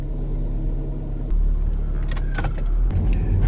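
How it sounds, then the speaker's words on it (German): A garbage truck rumbles past in the street, a steady low engine drone that swells briefly with a few clanks and hissing bursts, heard from nearby with no speech. "Da ist die Müllabfuhr, Leute"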